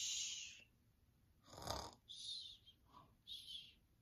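A voice imitates a pile of sleeping dogs snoring, giving one deep rasping snore followed by softer breathy snorts, fairly quiet and close.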